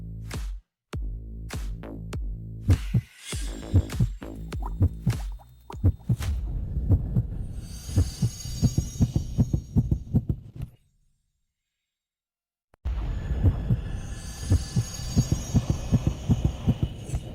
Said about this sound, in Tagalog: bakit ang bilis ng tibok ng puso nyo?